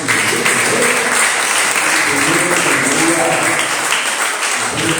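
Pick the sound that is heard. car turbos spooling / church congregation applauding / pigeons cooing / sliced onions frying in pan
church congregation applauding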